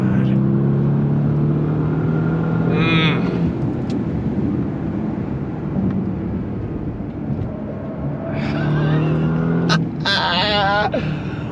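A 2025 Bentley Continental GT Speed cruises at high speed on the Mulsanne Straight, its engine droning steadily under heavy wind and road roar from inside the cabin, with a person talking over it.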